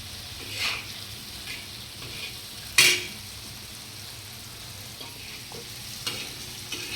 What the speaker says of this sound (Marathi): मस्त हलवत राहायचे असे भाजून घ्यायचे चांगले